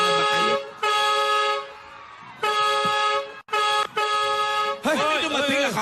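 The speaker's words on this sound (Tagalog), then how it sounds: "Akala ko naman truck na ng basura. Bumusina na" A garbage truck horn honks in several long, loud blasts separated by short pauses, ending in a quicker burst. Voices talk between and over the blasts.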